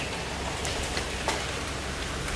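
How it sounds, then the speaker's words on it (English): Hail pelts a car window during a hailstorm as a dense, steady hiss of countless small impacts, with a few sharper individual strikes standing out, close and continuous without any voices. "if you've never been in a hailstorm, you have now."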